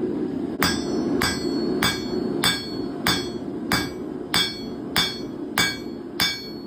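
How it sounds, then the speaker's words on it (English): A cross peen hammer strikes hot steel in a steady rhythm, about ten sharp ringing blows evenly spaced, close and loud over a low roaring background, while forging a leaf hook. "now that I have it roughed in with a cross peen hammer"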